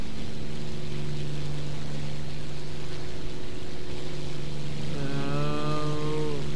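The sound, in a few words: aircraft engine in War Thunder video game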